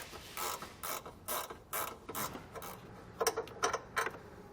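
A hand ratchet backing out 10mm bolts from a vehicle's washer fluid tank, with repeated close clicking strokes in short rhythmic bursts, then a few lighter rattles.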